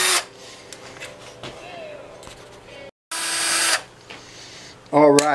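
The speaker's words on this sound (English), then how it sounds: "We're going to take off the deck screws." Power drill backing deck screws out of a guitar, with short bursts of whirring motor separated by pauses and a loud final run near the end, recorded up close.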